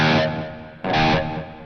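An electric guitar runs through Positive Grid BIAS FX with distortion, delay and heavy reverb, two sustained strummed chords, the second struck sharply after a decaying first, ringing loud with a long wash.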